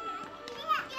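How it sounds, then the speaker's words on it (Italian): Children playing and celebrating in a forest village near Luang Prabang, Laos, heard as a brief burst of lively young voices close by, with kids chattering and calling out over one another. "questi bambini che fanno festa"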